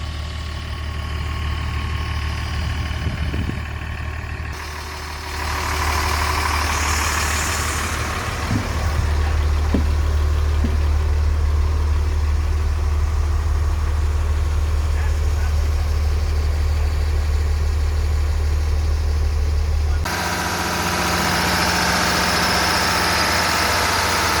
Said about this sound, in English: Maybe settling on a Thomas 2004 with a 6-cylinder Mercedes engine.